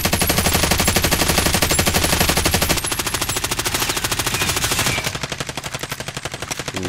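Sustained automatic gunfire in a video game, rapid evenly spaced bursts running continuously and loud, shifting in tone partway through as the weapon or distance changes, with no talk over it.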